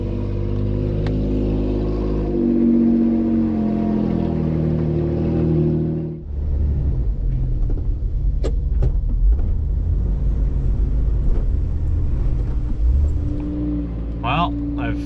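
A Jeep Gladiator in four-wheel drive pushes through deep, soft snow, its engine droning loudly and then rumbling and crunching through the drifts, with a voice talking over it.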